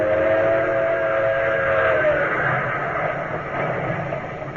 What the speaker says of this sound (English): day and night great trains rush toward the Hudson River